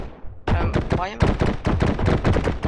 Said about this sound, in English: I like to use the machine gun.